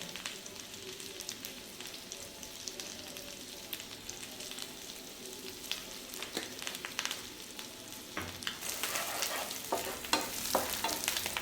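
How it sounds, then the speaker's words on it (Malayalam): Garlic, chili flakes and oregano frying in butter, a faint steady sizzle with stirring scrapes that grow louder and busier toward the end, no voices. "അല്പം ചില്ലി ഫ്ലേക്സും ഇട്ട് കൊടുക്കുന്നുണ്ട് ഞാൻ. പിന്നെ അല്പം ഒറിഗാനോയും കൂടെ."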